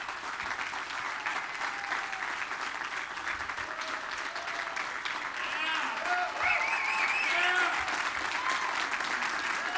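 Press members applauding at a political event, sustained clapping that swells slightly louder toward the end, with someone speaking over it.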